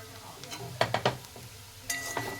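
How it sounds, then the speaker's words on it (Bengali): Lid lifted off a pan of pea-pod peels and potatoes cooking together, with metallic clinks and clatter close by, then a brief scrape and faint sizzle. "এবার ঢাকাটা খুলে আমি দেখে নেব"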